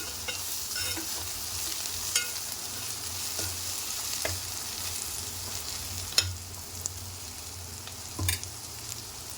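Ginger paste fries in oil, giving a soft, steady sizzle with light crackling and a few sharp stirring taps against the pan.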